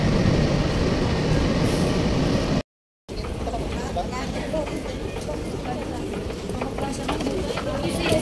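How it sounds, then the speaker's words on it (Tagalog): Steady rumbling and rattling of a passenger train in motion, continuous wheel and carriage noise under a voice, with a brief cut to silence midway before the rolling din resumes. "Sakay kami ng tren."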